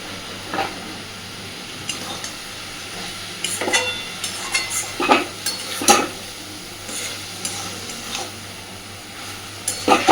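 Lote fish jhuri with chili powder is stirred and fried in a pan: a low sizzle under repeated scraping and clinking strokes of the spatula, irregular and close.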